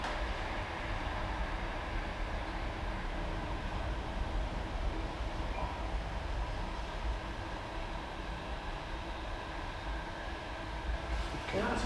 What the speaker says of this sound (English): It's a lot. It's a lot. It's probably a cargo train.